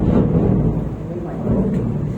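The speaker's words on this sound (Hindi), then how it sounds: "आवाज आ रही होगी आपको बादल की कितनी तेज है। बारिश बहुत तेज है बाहर और बादल भी बहुत गरज रहे हैं।" Heavy rain falls steadily outside during a thunderstorm, with a low rumble of thunder rolling underneath; a person talks in Hindi over the continuous wash of sound.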